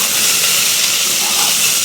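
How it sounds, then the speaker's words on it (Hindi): Onions fry in a pan as a loud, close, unbroken hiss that holds steady from start to finish. "तो आराम से प्याज को फ्राई होने देते हैं"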